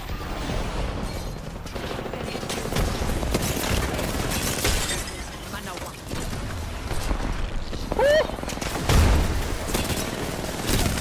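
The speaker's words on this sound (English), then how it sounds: "I'm getting shot by two teams!" Crossfire from two enemy teams in a video game: scattered gunshots and metallic clatter rattle throughout, with a sharper burst near the end, fairly faint under busy game sounds.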